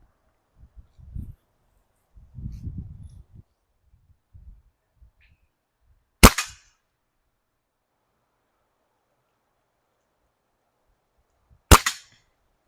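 A modded Crosman 2240 air pistol fires two sharp, close shots several seconds apart against a quiet outdoor background, with faint rustling and handling noises before the first shot.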